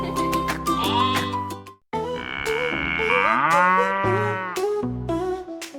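Cartoon cow moos over bright nursery-rhyme music for a farm-animal kids' song, the long drawn-out lowing tones sitting loud and close alongside the melody.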